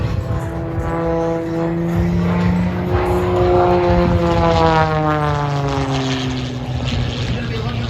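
An aerobatic propeller airplane climbs and rolls with a loud, continuous engine drone whose pitch rises and falls through the maneuver, with a commentator talking over it.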